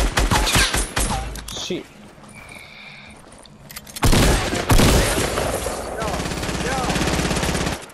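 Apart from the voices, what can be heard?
gunfire in a video game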